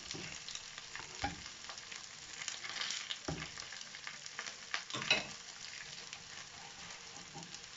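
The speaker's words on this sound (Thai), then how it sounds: "จะทอดให้มันเหลืองๆด้วยค่ะเด้อ ให้ได้เหลือง ๆ" Steady sizzling of a grilled sticky rice cake coated in egg frying in hot oil in a pan, with occasional louder crackles and pops, continuous and close, no voices.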